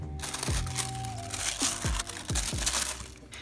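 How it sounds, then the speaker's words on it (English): Sealed box packaging is cut open with scissors up close, a run of crinkling, crunching plastic and cardboard with several sharp snips and rustles across the clip, no speech. "this one comes sealed, so we're going to need to open it with scissors"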